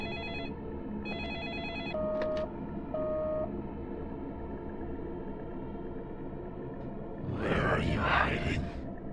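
A telephone rings in the video game Deadly Premonition Origins, with a few short tonal rings early on, followed later by a louder, noisier burst, all over a steady background hum.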